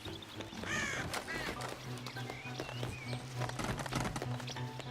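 In the video game Shadow of the Tomb Raider, a crow caws from its nest, the harsh calls rising over quiet clattering and pattering game ambience.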